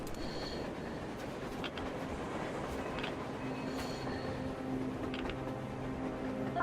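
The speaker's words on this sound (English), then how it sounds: "A damn train on the surface!" A train approaches in the post-apocalyptic shooter Metro Exodus, a steady loud rumble of rail carriages with faint metallic clicks and squeals, continuous and close throughout with no talking.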